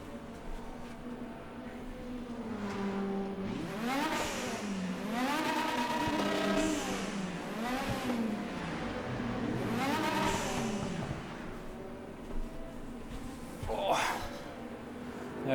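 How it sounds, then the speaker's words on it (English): A race car engine in the Race Room racing game revs repeatedly, rising and falling in several sweeping bursts over a steady idle, loud and close, with occasional talking over it. "if I go and open up Race Room and sit in the car and rev the car"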